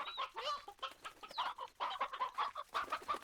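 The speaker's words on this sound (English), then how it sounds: "Is it an elder rooster?" An elder rooster in the Slime Rancher video game clucks repeatedly in quick, chattering bursts, close and clear, with rising squawks mixed into the rhythmic clucking.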